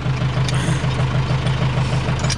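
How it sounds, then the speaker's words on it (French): Farm tractor engine running steadily close by, a loud, continuous low throbbing idle with a regular pulsing beat and no talking over it. "désolé pour le bruit du tracteur"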